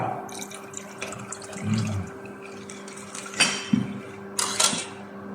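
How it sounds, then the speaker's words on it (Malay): Water poured into a cooking pot while preparing a Malaysian patin fish tempoyak dish, with faint splashing and trickling bursts around the middle and near the end, under steady kitchen background noise. "Kalau tak cukup air kita bubuh lagi."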